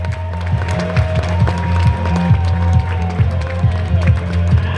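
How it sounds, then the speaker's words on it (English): Audience claps and cheers at a live stage show, a dense burst of applause with whoops, sitting over a steady low rhythmic backing that runs throughout. "please start clapping and cheering"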